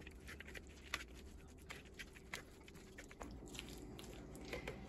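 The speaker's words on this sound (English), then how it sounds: "And now I'm gonna mix it all up." Soft, wet squishing and stirring as chicken bacon ranch pasta salad is mixed in a bowl, faint and continuous with a few sharper clicks, no talking.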